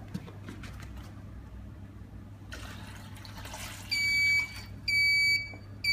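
A foot bath spa machine gives two loud bursts of rapid electronic beeping over a steady low hum and a faint trickle of water.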